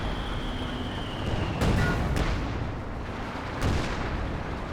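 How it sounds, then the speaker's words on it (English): Distant 105 mm artillery barrage called in by a Sherman tank in Company of Heroes 2, a couple of dull booming impacts rumbling over a steady battlefield din with constant background noise. "got the siege barrage there deployed out by the Sherman, the 105 barrage"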